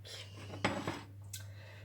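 A metal saucepan holding 250 g of sugar for dry caramel clanks once against a hard surface, with a few lighter scrapes after it, close and fairly quiet over a steady low hum.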